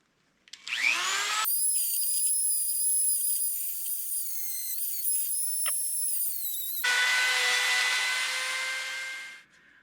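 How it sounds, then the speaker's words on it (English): High-pitched rotary sanding tool whines steadily, smoothing the cut edges of a DIY beaver tail rudder mount, with its tone shifting as pressure changes; no talking. "I'm going to go back through with this sandpaper tool and then kind of round off everything"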